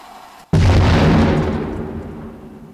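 A controlled detonation of a hidden explosive during demining in the Kharkiv region lands as one sudden, loud, close blast that booms and slowly rolls away, with nothing else heard.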